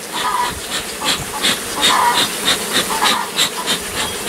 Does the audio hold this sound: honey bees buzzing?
yes